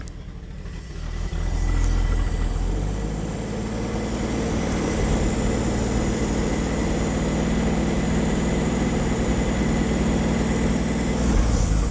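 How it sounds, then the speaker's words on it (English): A 1957 Chevrolet 150, parked for 40 years, idles steadily with a rough, rumbling drone that stays loud and close throughout, its pitch shifting slightly as the idle is raised. "You try pumping the idle up a little bit here before it dies."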